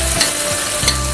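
Fish roe stir-fry being stirred in a pan, with a steady sizzle and two short scraping strokes of the spatula over about a second.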